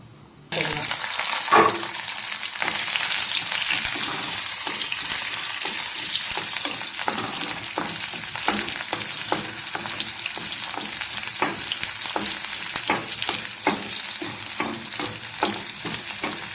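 About ten peeled small onions frying in a pan, a sustained loud sizzle from start to finish with scattered stirring scrapes and clinks.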